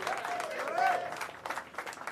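An audience cheers and applauds at Gary Sinise's Hollywood Walk of Fame ceremony, a steady broad wash of crowd noise with voices rising above it, swelling briefly near the middle before easing.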